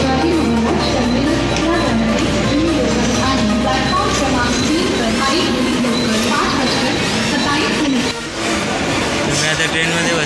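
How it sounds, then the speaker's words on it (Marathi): A Mumbai local train pulling away gives a loud, continuous rumble with rattling carriages. Voices and background noise sit over it throughout. "आता ट्रेन निघाली आहे."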